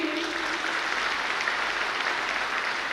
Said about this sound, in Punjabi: ਤਾੜੀ ਲਗਾਓ ਸਭ ਇਹਨਾਂ ਦੇ ਲਈ